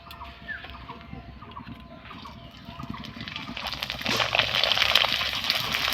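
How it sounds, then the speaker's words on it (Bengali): Papad made from flour frying in hot oil, a soft sizzle that swells into a louder, dense bubbling crackle over the last couple of seconds, with faint scattered sounds before. "এইভাবে প্রত্যেকটাকে ভাজবো আমি তেলে"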